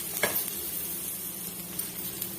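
Tamarind and spices sauté in a pan over a medium flame for a garlic medicinal kuzhambu, a close steady sizzle with scraping stirs and a couple of sharper crackles.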